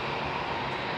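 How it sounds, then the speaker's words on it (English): Night departure of a Qantas Airbus A380 at Heathrow: a broad, steady jet engine roar, loud and continuous throughout the brief moment. "Is that the A380?"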